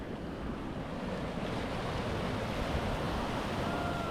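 Moroccan ocean surf rushes continuously on the shore, a broad, steady wash of breaking waves mixed with wind buffeting the microphone, fairly quiet and with no talking.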